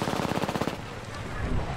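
Rapid automatic gunfire rattles in a shooter video game, a fast, even burst of loud shots that gives way to a dense, noisy rumble.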